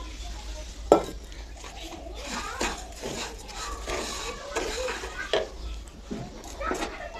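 Semolina with sugar, cashews and raisins being fried for Ramadan halwa, with a metal spoon scraping and clinking against the pan in irregular strokes over a faint sizzle, plus an occasional sharper knock.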